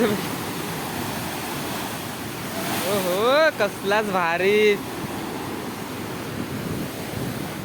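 Heavy sea waves surge against the shore at Bhardkhol fishing village, a steady roaring wash of surf with wind noise, while people talk and exclaim over it in the middle stretch.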